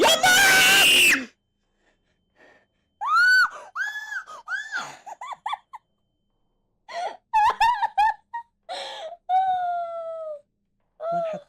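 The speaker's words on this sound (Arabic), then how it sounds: "سمعت صراخ يا جماعة" In a hospital haunted by jinn, a sharp, loud scream bursts out first. Scattered wailing, gasping cries and shrieks follow in short bursts broken by silence.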